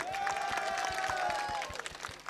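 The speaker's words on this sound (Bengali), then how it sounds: "সবার জন্য একটা জোরে করতালি দিয়ে দেন।" A crowd at an outdoor election campaign rally applauds in a dense, steady wash of clapping, with a voice or music line carrying over it and fading near the end.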